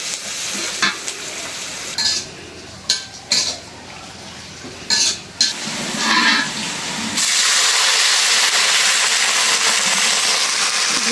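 Fish frying in hot oil in a pan, with ginger-garlic paste and salt added: intermittent clatter and stirring give way to a loud, steady sizzle that fills the last few seconds.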